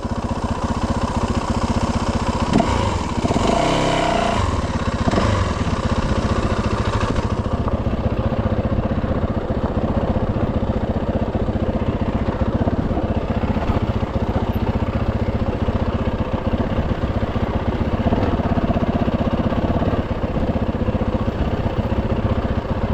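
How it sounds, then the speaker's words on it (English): A dirt bike engine runs steadily on a mountain trail, a loud, close, continuous mechanical drone that holds throughout, with a brief rougher patch near the start. "This is Mountain Bike Man doing dirt biking today."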